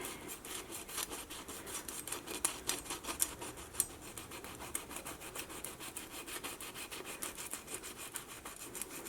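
A blade saws through the sealed dough top of a chicken biryani dum pot, a steady, close rasping scrape in quick rhythmic strokes that continues evenly throughout.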